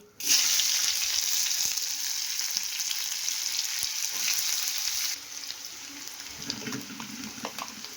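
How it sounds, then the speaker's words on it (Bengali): Chopped onions fry in hot oil with cumin seeds, a loud, dense, close hiss that dominates for about five seconds, then settles into a quieter crackle with a few scraping stirs. "পেঁয়াজটা লাল লাল করে ভেজে নিয়েছি"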